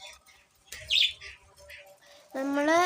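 A pet bird chirps close by in short bursts, ending in a louder run of rising tweets, with faint background noise and no clear talking.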